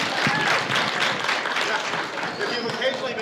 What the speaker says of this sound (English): Let's give a round of applause for the mothers here this afternoon.